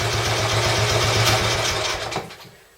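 Royal Enfield Bullet 350 Classic single-cylinder engine, freshly tuned and timed, thumping in a steady even idle close by after a kick start, then cutting off and fading out near the end.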